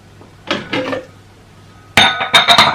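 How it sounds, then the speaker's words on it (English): Pineapple pieces dropped into a bowl for a carrot and banana juice drink, with a soft clatter followed by several sharp, close clinks and knocks against the dish. "Add half cup of pineapple."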